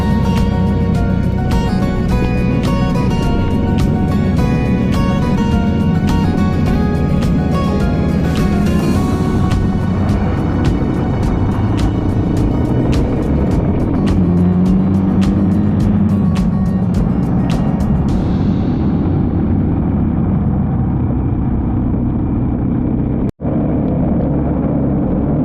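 Motorcycles riding on a dirt road near Singleton, a steady, loud engine drone with wind rush that continues throughout, the tone shifting slightly as the bikes move along, with no talking.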